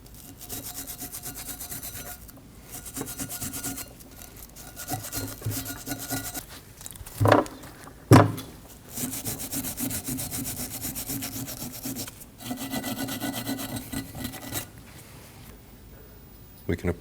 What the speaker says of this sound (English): We'll use a brush and clean on the pad mating surfaces.